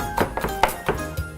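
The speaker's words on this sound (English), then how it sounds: "make sure you cut these nice and small" A knife chopping onions on a cutting board for homemade salsa, five or six separate dull thunks at an uneven pace, close and moderately loud, with no talking.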